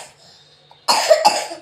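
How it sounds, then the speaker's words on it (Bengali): A child coughs twice in quick succession, close and loud, after a brief quiet moment. "দেখেছিস তো কিরকম কাশি হচ্ছে তোর"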